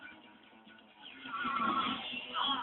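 Cartoonish sheep bleats from enemies transformed by the Sheepinator weapon in Ratchet & Clank: Going Commando, rising in loudness partway through with a couple of overlapping bleating calls over game background sound.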